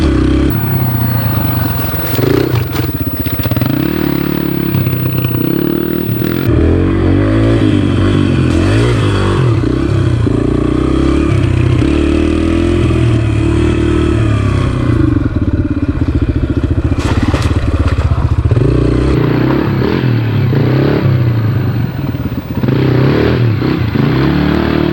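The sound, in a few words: Yamaha TTR 125 dirt bike engine riding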